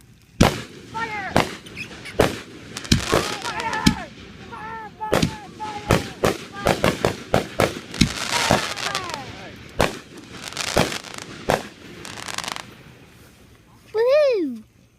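Fireworks burst in a rapid string of sharp, booming explosions with uneven gaps, some close and loud, while excited voices call out between the blasts.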